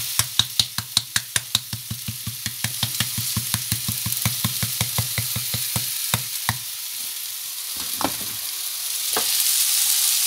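A hamburger mixture seasoned with paprika and cumin fries in olive oil in a pan, steady sizzling hiss under a fast series of sharp knocks from stirring that slow and fade, close up, no talking.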